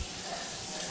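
Ribeye steaks hit a hot pan and sizzle with a dense, continuous hiss and crackle, close and fairly even throughout.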